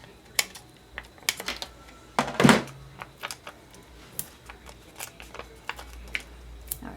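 Craft foam adhesive dimensionals are snipped off indoors, giving sharp scissor clicks and small papery snips scattered irregularly, fairly faint, with one louder crinkly rustle in the middle.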